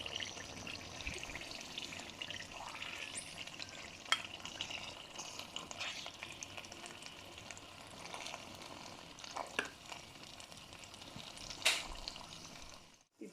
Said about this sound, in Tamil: 2 மணித்தியாலமாக இதை கிண்டி கொண்டிருக்கிறேன்